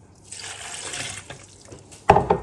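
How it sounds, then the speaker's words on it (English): Half a cup of water pours into a blender in a steady stream for a couple of seconds, ending with a brief clunk and splash. "And here I'm gonna add half cup of water"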